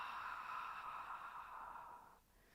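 A steady exhaled breath with a soft, hazy fog-the-mirror hiss during a deep flexibility breathing exercise. It holds level for about two seconds and then fades out.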